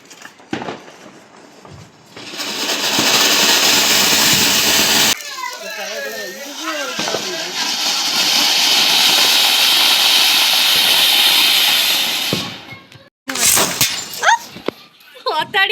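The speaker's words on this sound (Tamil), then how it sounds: "வெடிச்சிருச்சுடா இப்பதான் பறந்தது இப்ப வெடிக்குது" Loud hissing bursts and sharp crackling blasts from Diwali firecrackers going off close by, with excited children's voices shouting between the explosions.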